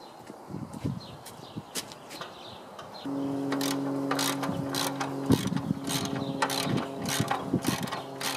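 A ratchet wrench works bolts loose on a Massey Ferguson 265 tractor, its rapid pawl clicking sharp and close over a steady mechanical hum.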